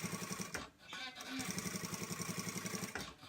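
Sewing machine stitching around the edge of a child's A-line dress, a fast steady run of needle strokes with a few short pauses, close by and fairly loud throughout.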